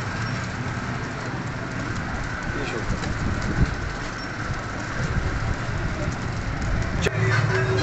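Breeder pigeons coo softly in a loft, a low continuous murmur of birds under steady background noise, with a sharp click near the end.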